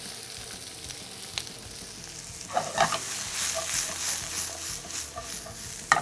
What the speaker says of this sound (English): we're going to add a little bit of oil to our pan and saute them up.